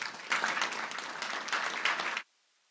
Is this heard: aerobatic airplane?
no